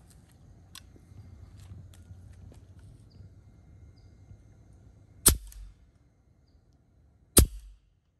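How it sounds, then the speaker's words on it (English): Two sharp, isolated shots from a Leshiy 2 air rifle fitted with a moderator, each a short crack with a brief tail, spaced about two seconds apart after a quiet stretch of low room noise. "we'll get set up to shoot another couple of shots"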